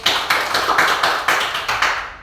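Applause from a small classroom group at a microteaching session, a few people clapping in uneven bursts with a fairly close, dry sound and no one talking.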